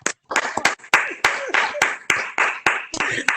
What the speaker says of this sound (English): Audience, would you give her a hand?